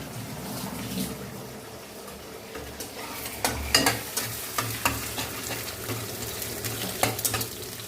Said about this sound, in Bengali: একটা ডিম ফেটিয়ে দিলাম, এবার ডিমটা ভুজিয়া করবো।